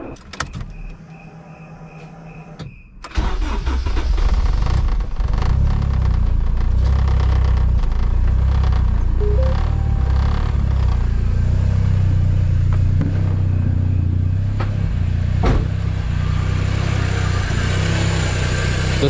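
A Honda EG with a K24 turbo engine starts driving after brake repairs, its engine rumbling loud and steady up close once it pulls away, after a quieter idle with a faint chime.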